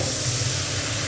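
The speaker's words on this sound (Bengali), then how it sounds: "জল দিয়ে দিলাম।" Water poured into a hot pan of turmeric and chilli powder for a small-fish curry, giving a loud, steady broadband hiss that holds evenly for about a second.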